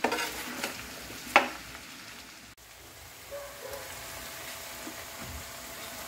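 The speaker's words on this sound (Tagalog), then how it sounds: "Haluin lang, tapos hintayin na maluto." Korean spicy chicken stir fry sizzling steadily in a pan, with a spatula stirring and scraping through it, a few sharp clinks near the start and a continuous soft frying hiss throughout.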